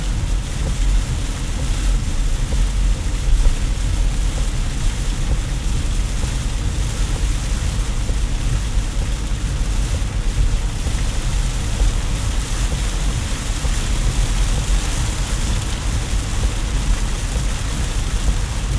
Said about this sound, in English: This rain should stop any second now.